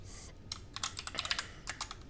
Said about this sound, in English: Every time I try to type something out, like as I'm typing, it's changing the name